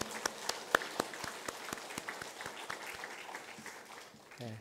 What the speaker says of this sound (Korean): 하나님께 영광의 박수를 함께 드리도록 하겠습니다